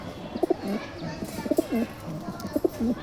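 Racing pigeons coo in repeated low, throaty phrases, close by, with faint background noise between the calls.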